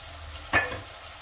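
A spoon stirs black masala, red chili powder, turmeric and coriander powder together in a pan for dal bati, giving one brief, close scrape with a light sizzle.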